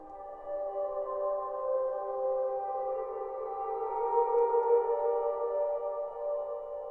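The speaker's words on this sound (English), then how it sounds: "So here's the guitar on its own." Solo guitar line from a dark house EDM track, a smooth sustained tone with layered harmonics swelling gently, steady and alone without drums or voice.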